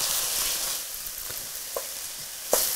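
Peppers and onions fry in a pan for shakshuka, a steady close sizzle with a few soft stirring knocks and one sharper clack near the end.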